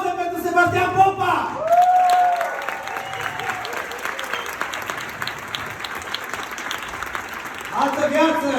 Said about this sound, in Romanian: Am spus aplauze pentru Sebastian Popa!